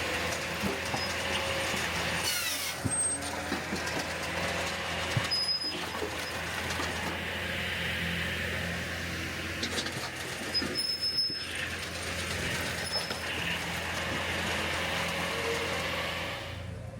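Easton Made 40C log splitter running steadily throughout, a continuous mechanical drone with occasional clanks and ratcheting knocks, close and fairly loud, with no talking.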